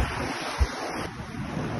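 Sea waves washing up on a Henry Island beach, a close, steady wash of surf mixed with wind buffeting the microphone, brief and fairly loud with one low thump partway through.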